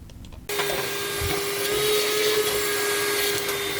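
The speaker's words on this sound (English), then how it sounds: "So I'm thinking this hand vac will do the trick." An Audew wireless hand vacuum switches on after a moment of quiet and then runs with a steady, loud whining hum close by, alone without talk.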